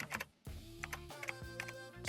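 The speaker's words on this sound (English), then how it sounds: "I'm typing with one hand because I'm holding the mic in the other." Keyboard typing done one-handed during a screen-recorded tutorial, with soft irregular key clicks close by under a steady background hum and a brief dropout near the start.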